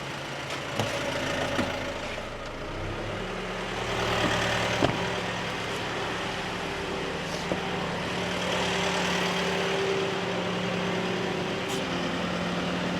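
A steady engine hum from a sawmill running throughout, rising slightly in pitch and intensity partway through as the revs increase, with no voices.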